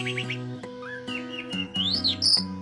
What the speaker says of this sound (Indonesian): Anis merah sangat susah ditangkarkan karena sejenis burung yang tidak mau berpasangan dalam keseharian.